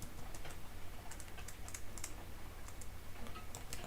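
Fast, light typing on a computer keyboard, close and quiet, with irregular soft key clicks over a low steady hum and no voices.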